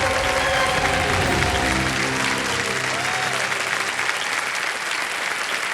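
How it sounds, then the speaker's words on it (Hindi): Loud, sustained applause from a large studio audience on the Kaun Banega Crorepati TV quiz show, continuous throughout and gradually thinning a little toward the end. "जोरदार तालियां बजाने के लिए"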